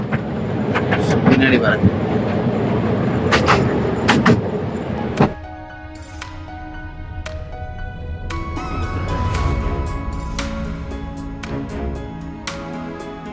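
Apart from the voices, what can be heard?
amusement park toy train ride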